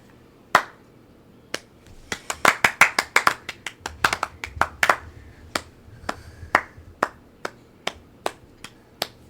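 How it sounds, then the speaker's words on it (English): Steady hand claps, about two dozen sharp separate slaps over nine seconds, spaced slowly at first, then coming in a quicker cluster, then easing back to a slow, even beat. They are close and clear, with no talking. "There, I gave you a slow clap."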